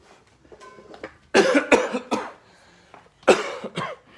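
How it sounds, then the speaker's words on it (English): Several harsh coughs from a man wearing a mask, in two bursts, the first a quick cluster of three or four, the second a pair a moment later, fairly close with quiet between. "He's coughing"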